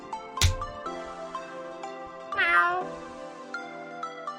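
A cat meows in the video game Choices: Stories You Play, beginning with a sharp click, then a few short mews and one longer rising-falling meow over soft background game music.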